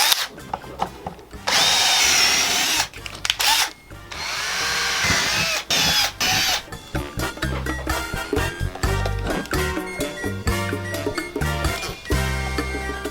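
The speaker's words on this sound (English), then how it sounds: "I'm gonna pre-drill this hole too" A power drill pre-drills holes during a car stereo install in a 2021 Ford Explorer, whining in loud bursts that start and stop, then settle into quieter grinding pulses close by.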